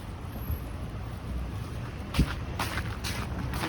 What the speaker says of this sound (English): the wind is very bothersome